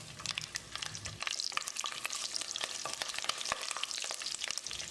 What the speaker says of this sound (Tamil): ஒரு 10 செகண்ட் பிரட்டி விட்டுறலாம்.